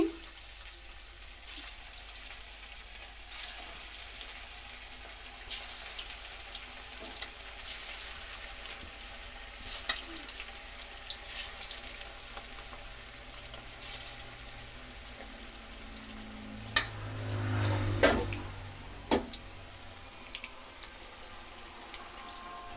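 Chicken pakora frying in oil, a soft continuous crackle and bubbling with intermittent scrapes and clinks of stirring, swelling briefly near the end, no talk.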